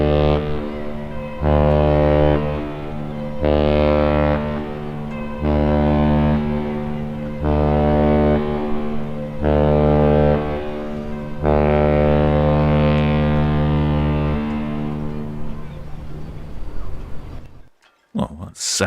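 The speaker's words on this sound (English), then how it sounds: "I believe that's the Independence of the Seas demonstrating some honking" The cruise ship Independence of the Seas sounds its deep horn at Southampton port, six long, loud blasts with short gaps between them, booming and resonant, followed by brief noise at the end.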